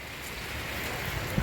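Steady rain falls outdoors as a dense, even hiss of drops that swells slightly louder toward the end, with no voices.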